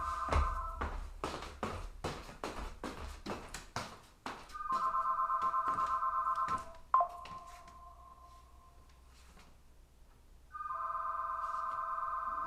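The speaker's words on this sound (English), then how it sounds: "Well, phone's ringing" A telephone rings indoors in repeated electronic tone bursts, moderately loud, after a string of sharp clicks and knocks, with a pause before the ringing resumes.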